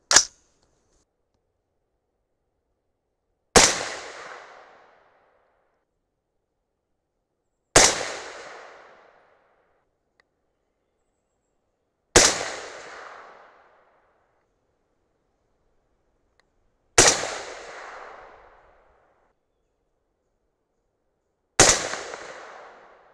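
Six sharp gunshots from an Aero Precision M5E1 AR-10 rifle, spaced about four seconds apart, each a loud crack with a short fading echo and silence in between.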